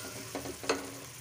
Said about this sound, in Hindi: अब इसमें हम अच्छे से मिक्स कर लेंगे